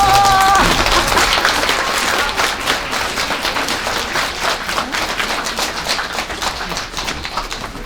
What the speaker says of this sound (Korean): 큰 박수로 호산 대보살님.